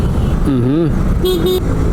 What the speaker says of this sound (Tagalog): Traffic, EDSA Caloocan.